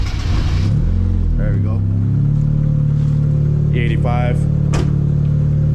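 Mazda Miata engine cranking over and catching, then settling into a steady idle with a brief rev, loud and close while someone speaks over it.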